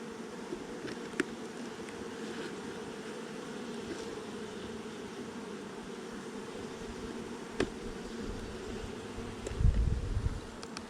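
Honey bees swarm around a hive split with a continuous low droning buzz, a steady close hum that briefly swells near the end amid light handling bumps.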